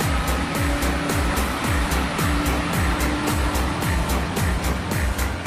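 A Jiefang tractor truck towing an old crane labors up a steep hill, its engine droning steadily with repeating pulses under a heavy rushing wind-like noise.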